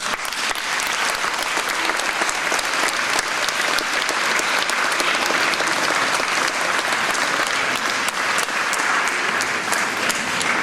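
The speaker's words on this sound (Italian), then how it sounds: "Abbiamo con noi Dacia Maraina e ancora un applauso" A crowd applauds at a book presentation event in a small Ligurian town, with sustained, loud, even clapping filling the whole stretch without a break.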